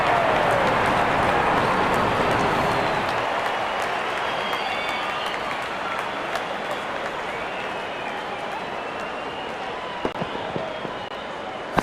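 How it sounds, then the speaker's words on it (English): Cricket crowd applauding and cheering at a live match, a broad, steady wash of clapping and voices that starts loud and eases slightly over several seconds, with a commentator talking over it. "The crowd is enjoying every bit of this action."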